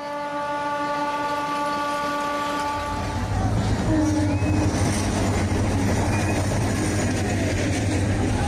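A passenger train horn sounds with steady tones, then a loud rumbling train passes close, wheels rattling continuously.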